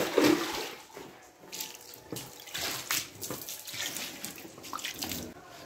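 Water from a plain hose, no pressure washer, splashes and runs over a waxed 2003 Toyota Altis 1.8G. The rinsing is close and continuous with uneven surging and spattering, and no speech.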